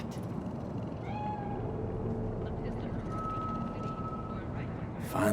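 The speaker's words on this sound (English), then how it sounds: "Do you see it? The cat." Cat meowing in the video game Cyberpunk 2077, a few short mews over a steady city ambience with distant traffic and aircraft hum.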